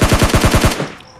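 Rapid automatic fire from an M416 assault rifle in the mobile shooter PUBG Lite: a burst of about eight close, punchy shots in quick even rhythm, ending abruptly and trailing off into faint game ambience.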